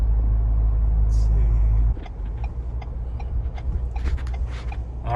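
A Ford Bronco two-door base model with a manual transmission is driven through Ann Arbor, producing a steady low engine and road rumble that drops to a quieter hum partway through, with faint ticking and light rattles.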